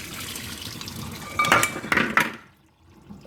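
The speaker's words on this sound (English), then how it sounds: "And then we're going to pour out the eggs." Boiled eggs and hot water poured from a pot in a home kitchen: a steady watery rush with several sharp clinks and knocks of eggs against the pot near the end, then quiet.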